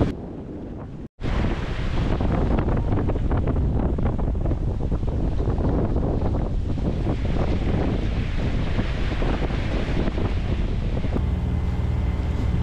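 Strong gusts of up to 35 knots blowing at sea in the channel between two Canary Islands near Tenerife, a loud continuous roar of wind buffeting the microphone, with sea and boat noise beneath and a brief dropout near the start.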